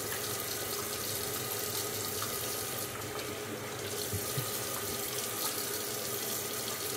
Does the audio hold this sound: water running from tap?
yes